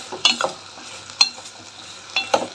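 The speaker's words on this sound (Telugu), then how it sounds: "బాగా వేయించుకోవాలండి బంక జిడ్డు జిగడంతా పోయేలాగా వేయించుకోవాలి" Okra fried with tamarind for chutney gets stirred in a pan, giving several distinct scraping strokes in an irregular rhythm over a faint sizzle, heard up close with no talking.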